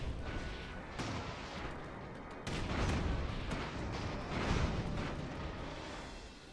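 Artillery fires in the airship battle game Airships: Conquer the Skies, a dense, continuous barrage of booms and crackling impacts layered over one another, moderately loud and unbroken throughout.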